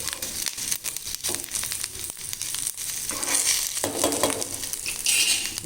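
Raw banana pieces fry in a pan for aratikaya upma koora with a close, continuous sizzle. The hiss swells at times, and stirring scrapes and rustles run through it, with no voices.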